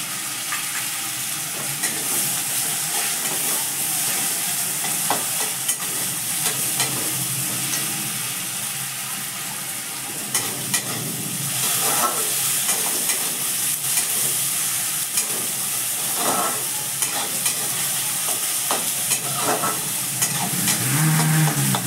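Tomatoes fry with green beans in a hot pan, giving a steady close sizzle throughout, with irregular scraping and clacking as a spoon stirs them.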